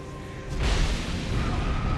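In a Dark Souls 2 video game scene, a deep rumbling blast erupts after a brief quiet moment, its low boom lingering and swelling into a sustained roar with crackly debris noise.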